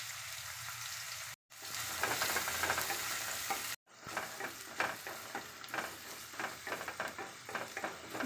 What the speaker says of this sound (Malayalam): നന്നായിട്ട് വഴണ്ടിട്ടുണ്ട്.